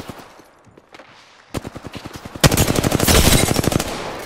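Rapid automatic gunfire from the Apex Legends video game during a duo ranked match, starting with a few sparse shots and building into dense, loud sustained bursts of repeated rounds.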